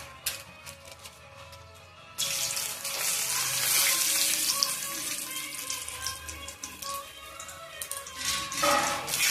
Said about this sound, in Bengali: গরম মশলা ভালো করে এভাবে নাড়াচাড়া করে ভেজে নেওয়া হচ্ছে।